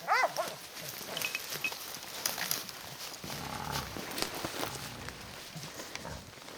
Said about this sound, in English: Had to wait for them dogs to clear.